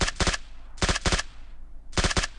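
Three short machine-gun bursts crack out in quick succession during PUBG Mobile gameplay, each a tight, loud rattle of rapid shots separated by brief pauses.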